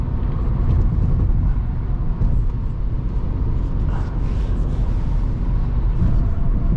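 A BMW E90 sedan accelerates at highway speed, its engine a loud, steady low drone blended with heavy road and wind rumble from inside the cabin, no speech over it.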